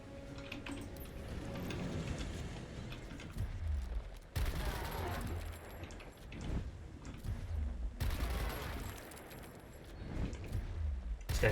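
Gunfire in the tactical video game Gears Tactics, with repeated bursts and dense crackling shots under game effects, loud and continuous with sharp louder volleys.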